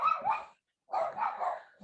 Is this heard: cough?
no